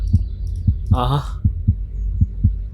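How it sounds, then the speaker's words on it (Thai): A racing heartbeat effect from a Minecraft horror game throbs as loud, low, evenly spaced thumps, about eight in under three seconds, while someone briefly speaks over the middle. "เสียงหัวใจเริ่มเต้นรัวๆแล้ว"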